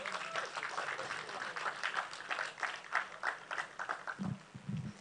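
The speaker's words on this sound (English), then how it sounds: "Please keep clapping till she sits down." Audience applause at a Lagos-style tech and creative conference panel, a broad wash of clapping held steady at moderate distance, with a few louder claps and a brief low voice near the end.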